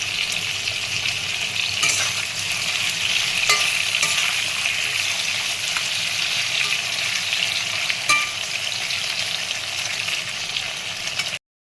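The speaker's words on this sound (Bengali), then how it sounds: "নুন দিয়ে কাঁকরোলটাকে আমি ভেজে নেব" Pointed gourd fries in oil with salt, giving a loud, continuous close-up sizzle and crackle with a few sharp spatula taps scattered through, and no voices.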